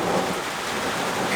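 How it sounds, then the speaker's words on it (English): Heavy rain drums steadily on the roof of a van at a paramotor championship camp, a dense, unbroken hiss and patter that stays loud throughout, with no talking. "That's some serious rain."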